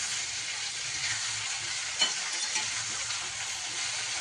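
Pumpkin pieces fry in a pan with a steady, close sizzle and crackle that holds evenly throughout, with one soft utensil knock partway through.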